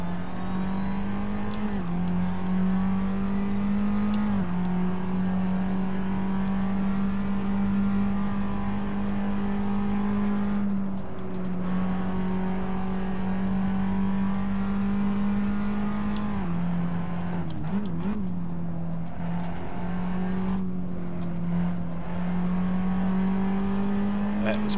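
Formula Abarth race car lapping the Sepang circuit, its engine droning steadily at high revs with pitch dips and climbs through gear changes and corners; a voice talks over the engine.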